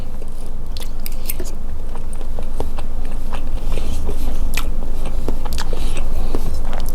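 Close, continuous crunchy chewing and biting of southern Thai salted egg yolk cups, with small sharp crackles throughout and no talk over it.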